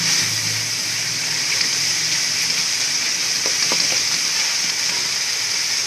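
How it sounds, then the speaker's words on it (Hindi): Masala fries in a pan with a loud, steady broad hiss and sizzle, a few faint stirring taps partway through, continuous and close with no talking. "ये देखें माशाल्लाह हमारा मसाला बहुत अच्छी तरह से भुन गया है"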